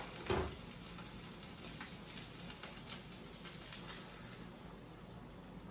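Beaten eggs sizzling on lowered gas in a pan with wrinkled peppers and onions, a soft steady crackle and hiss with a few louder pops, quiet and with no talk.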